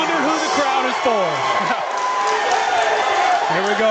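A loud crowd roars steadily in an arena as fighter Logan Sowders of Bloomington, Indiana is introduced at a CKE Return of the Gladiators cage fight, with an announcer's voice running over the din.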